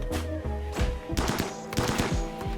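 Colonists fire their weapons in a modded RimWorld Alpha 15 battle against machines, producing several separate bursts and single shots spaced irregularly across a few seconds at moderate volume, with no speech.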